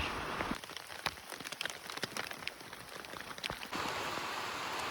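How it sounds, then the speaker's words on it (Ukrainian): Steady rain pattering on a surface at a tent campsite on Yahidna mountain, with scattered louder drops striking nearby throughout, no voices. "Знову дощ."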